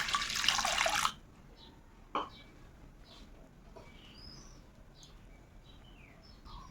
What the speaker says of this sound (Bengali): অল্প জলও দিয়ে দিব।